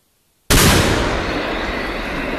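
A 95 S 58-61 recoilless rifle fires a single sudden, very loud blast after a moment of near silence, its booming report rolling and echoing outdoors as the noise slowly decays.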